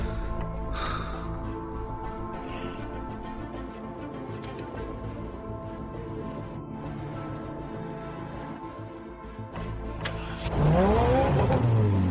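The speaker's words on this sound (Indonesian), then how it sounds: "Suara mesin ini benar-benar berasal dari mesin mobil." Racing car with a 1,100-horsepower engine idling with a low, steady rumble, then a sharp loud revving surge near the end that climbs quickly in pitch.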